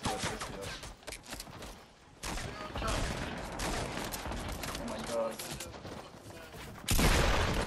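Gunfire rattles in a Fortnite battle, with rapid bursts and single shots crackling in clusters and brief lulls between them.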